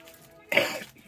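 A single short cough, close and fairly loud, lasting about half a second against a quiet room background.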